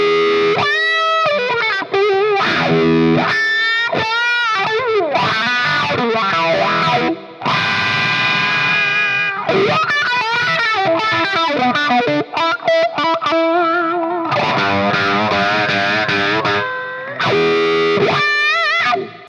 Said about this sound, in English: Then we'll brighten that one up by going all the way forward with the tone switch.